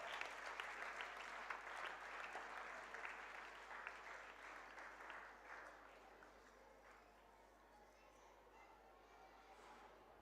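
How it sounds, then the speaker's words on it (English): Audience applause at a school annual function prize distribution, dense clapping that fills the hall loudly at first and then gradually thins and softens toward the end. "Please give a big round of applause."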